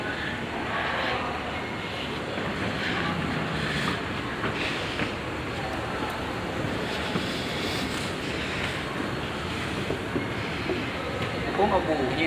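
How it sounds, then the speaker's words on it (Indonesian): An elevated airport skytrain at Soekarno-Hatta Airport rumbles steadily along the track with rattling wheels and occasional squeals, while people talk nearby throughout. "Naik kereta layang."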